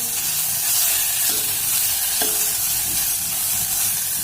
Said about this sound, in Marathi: 1 मिनिट हे तेलात परतून घेते मी.